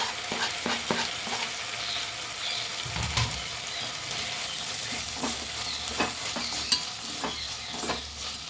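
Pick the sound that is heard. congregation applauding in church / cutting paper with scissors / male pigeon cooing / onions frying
onions frying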